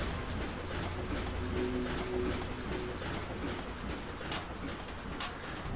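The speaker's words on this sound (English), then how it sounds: "But now we have a giant train." A giant train rumbles along steadily in the game Ratchet & Clank (2002), a continuous low mechanical roar with a faint tonal hum, without speech.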